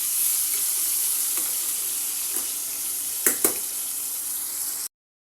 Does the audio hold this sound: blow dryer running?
no